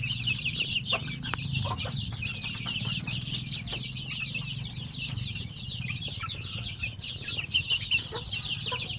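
Chickens clucking steadily in a coop, a dense, continuous chorus of overlapping clucks and calls close by, with no talking.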